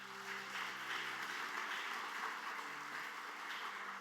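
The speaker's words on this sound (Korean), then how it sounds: "감사하는 마음으로 또 축복하는 마음을 담아 박수 한번 하도록 하겠습니다" A church congregation claps together during a Sunday worship service in Bucheon. The clapping is steady, sustained and fairly faint and distant, with a low hum running underneath.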